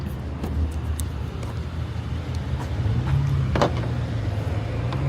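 A 2015 Hyundai Elantra with 89,000 miles idles steadily on a repo lot, its low engine rumble continuous and moderately close, with faint outdoor background noise.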